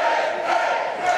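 Dense, loud roar of a packed crowd cheering at an indoor wrestling show on a Thursday night in Georgia, a steady wash of voices swelling slightly and filling the hall throughout.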